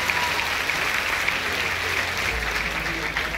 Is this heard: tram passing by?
no